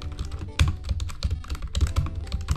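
Rapid clacking keystrokes from a small computer keyboard, irregular bursts of close, crisp clicks with heavier thumps mixed in, continuous throughout with no voices.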